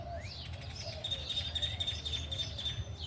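Birds chirp around a backyard bird feeder outdoors, with quick repeated tweets and a thin high trill running through, fairly faint and continuous over low background rumble, with no one talking.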